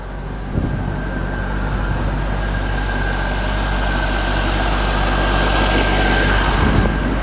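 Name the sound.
1998 Chevrolet Corvette engine idling with stock exhaust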